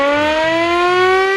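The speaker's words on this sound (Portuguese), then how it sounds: "Que trem de sirene é essa, cara? Vazamento de gás letal." A wailing civil defense siren warns of a lethal gas leak, its rising tone steady and loud with strong harmonics, sounding alone without any voices.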